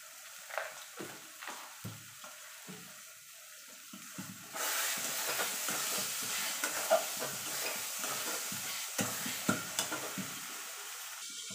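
Prawns wrapped in taro leaves are stirred in a pan, with scattered scraping strokes at first, then a steady, fuller sizzle with occasional stirring clacks.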